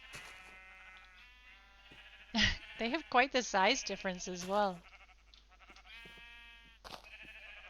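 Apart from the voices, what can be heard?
sheep bleating in modded Minecraft video game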